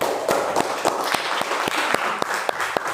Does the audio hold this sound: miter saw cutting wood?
no